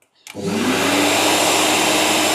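A Bosch GOF 20-12 router starts abruptly and runs at steady high speed together with an auto-starting dust vacuum, producing a loud, continuous whine that fills the clip after a brief click.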